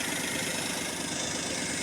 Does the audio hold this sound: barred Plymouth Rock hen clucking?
no